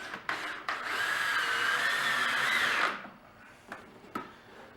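A power drill drives a 3-inch coated deck screw, whining steadily for about a second and a half before cutting off, framed by a few sharp clicks and knocks nearby.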